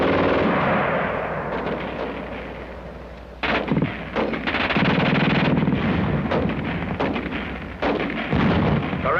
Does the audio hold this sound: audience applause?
no